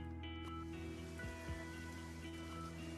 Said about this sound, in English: Today, it is raining heavily.